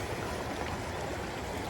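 A creek swollen after a night of rain rushes steadily nearby, a dense, even wash of flowing water with no pauses, heard alone without voices.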